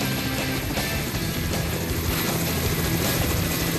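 A forestry pest-control helicopter flies low, within 15 m of chestnut treetops, on a spraying run over a mountain orchard: a loud, continuous rotor and engine roar, steady and close throughout.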